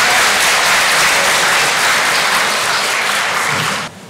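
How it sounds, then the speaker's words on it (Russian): Loud, dense applause from a large audience at an opening ceremony at Kazan Federal University, sustained and even, then cutting off abruptly near the end. "Аплодисменты."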